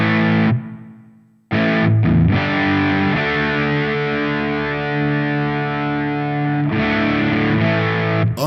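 Electric guitar through the Orange Rockerverb amp model on a Hotone Ampero Mini, playing loud, gainy distorted chords that ring out, with a brief gap and a few quick strums before long sustained notes.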